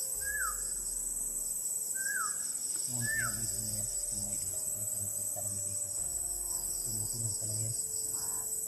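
Crickets chirr steadily in the background while a bird gives three short rising calls early on, with faint low knocking sounds throughout.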